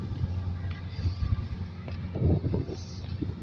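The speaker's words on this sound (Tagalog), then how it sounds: "Yung nga lang, mahangin lang." Low rumbling gusts of desert wind buffeting the microphone, rising and falling over a few seconds with no voices.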